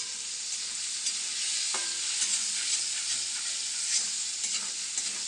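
Chopped prawns frying in a pan for a Bengali banana-flower dish, a steady close sizzle with intermittent stirring scrapes and a faint utensil clink.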